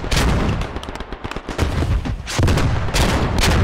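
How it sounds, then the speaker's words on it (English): Rapid bursts of gunfire and heavy explosions in a WW1 first-person shooter video game crowd together, loud and close, with brief lulls between volleys. "it's hot up here with the explosions"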